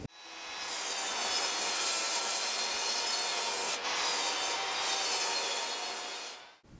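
A saw cuts through a wood board for a rustic pantry cabinet with a steady, close rasping stroke that runs continuously for several seconds, briefly dipping once midway, with no voices.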